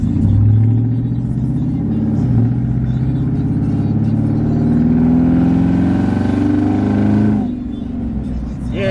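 A truck engine heard from the back seat, a steady loud rumble that rises and falls with acceleration, with people talking over it.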